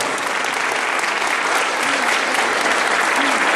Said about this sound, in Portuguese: Uma salva de palmas aí, gente.